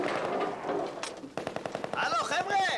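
A mobile phone ringtone imitating gunfire rings out: a sharp burst, then a rapid run of machine-gun-like bangs, with a voice talking over the start.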